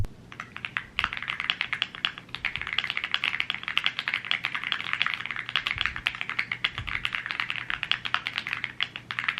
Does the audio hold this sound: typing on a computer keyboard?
yes